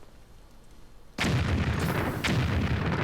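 Explosion effects from the Disney Infinity 3.0 video game erupt in a desert debris field, two loud booming blasts with rumbling decay following a quiet start.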